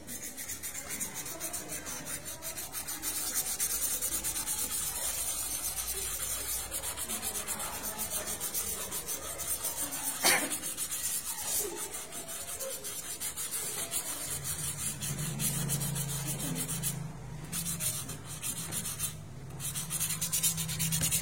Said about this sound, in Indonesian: kemudian amplas kulit telur sampai tipis